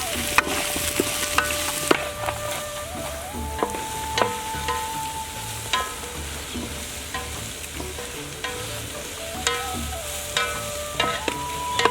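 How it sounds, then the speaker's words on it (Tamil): Bitter gourd sautéed in a pan for a tamarind curry, with a steady sizzle of frying under repeated scraping and stirring strokes of a spoon against the pan, close and continuous with no talk. "அந்த நேரம் வந்து மாறுற அளவுக்கு வதக்கினாலே போதும்."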